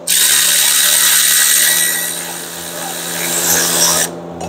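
An electric ratchet whirs loudly and continuously for about four seconds, removing bolts from the rear bearing assembly of a 2020 Subaru Impreza, then stops abruptly.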